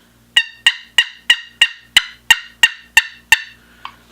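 A wooden turkey box call is played up close, giving about ten sharp, raspy yelps in an even rhythm that end with a softer final note. The notes are loud and crisp, with nothing else heard.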